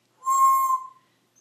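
A pet bird gives a single clear, whistled call lasting under a second, close and fairly loud, in an otherwise quiet room.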